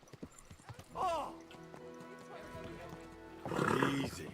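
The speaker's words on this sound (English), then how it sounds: "wow, that's a nice looking horse." Horse hooves clip-clop alongside loud whinnies in the video game Kingdom Come: Deliverance II, with a neigh early and a stronger one near the end, under game speech and background sound.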